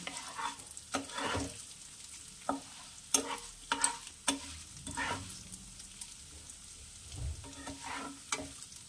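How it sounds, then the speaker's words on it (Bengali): Moong dal fries in a pan with a soft continuous sizzle, broken by repeated spatula scrapes and stirring knocks at an irregular pace, fairly quiet and close. "ডালটা ভাজা ভাজা হয়েছে একটু"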